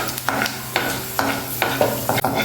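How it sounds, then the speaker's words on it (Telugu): A spoonful of coriander seeds and half a spoon of cumin seeds roast in a pan, crackling under a steady sizzle with a rhythmic series of scraping stirs about every half second. "ఇప్పుడు ఇందులోకి 1 స్పూన్ ధనియాలు, 1/2 స్పూన్ జీలకర్ర వేసి వేయించేసుకోవాలి."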